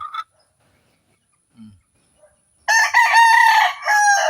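A rooster crows loudly and close by in one long, drawn-out call, after a few faint clucks and near-silence.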